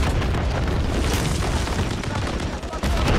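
An RPG explosion in Call of Duty Modern Warfare 3 battle, a loud continuous roaring blast wash with dense rumbling and crackling debris, close and overpowering throughout.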